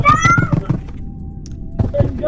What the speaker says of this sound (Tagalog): nagbababa lang siya ng pusa